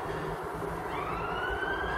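An allotment shed sign fitted with a siren gives a continuous wailing tone that slowly rises in pitch, loud and steady for the full two seconds, with no voices.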